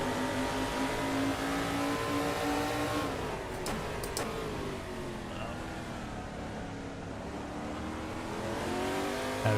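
Race car engine in the Assetto Corsa racing game, a sustained loud whine that rises and falls through gear changes during an overtake, with faint tire noise and a person talking over it.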